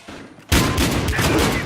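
Rapid gunfire in the video game Battlefield Hardline: a loud, sudden burst of automatic shots after a quiet moment, sustained dense firing up close.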